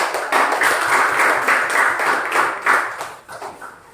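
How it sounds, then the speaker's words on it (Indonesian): Students applauding in a classroom, a dense patter of many hands clapping at close range for a few seconds before tapering off into scattered claps. "Iya, kalau begitu kita beri aplaus"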